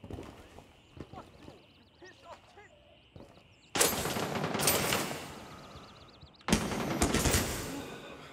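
Two loud bursts of gunfire in the shooter game Gray Zone Warfare, fired through a window. Each volley starts abruptly and rattles on for a couple of seconds, following a quieter stretch with faint movement and talk.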